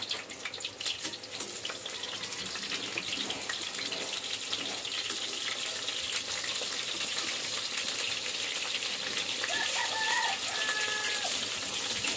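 Cooking oil fries and spatters in a pan with a steady crackling hiss at low level, with faint background sounds.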